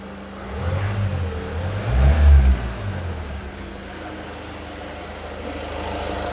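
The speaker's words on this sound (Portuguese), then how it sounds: "Agora vamos fazer também aquele esquema de dar uma acelerada para forçar a EGR a trabalhar" A car engine revs up sharply around the middle of the clip and settles back to idle, the throttle blipped so the EGR valve works, steady low engine hum throughout with no talking.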